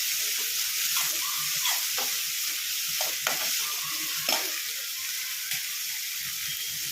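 Tomato frying with onion and green chillies in a pan for masala upma, a steady bright sizzle with several quick scraping stirs of a spoon through the mixture, close and alone without talk.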